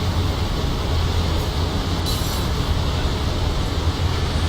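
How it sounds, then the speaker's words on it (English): Rail traffic in Train Simulator 2016 on Sherman Hill, a Union Pacific ES44AC run with a stack train passing the other way, heard as a steady low rumble and rolling drone throughout, with a brief brighter hiss midway. "Stack train in the other direction"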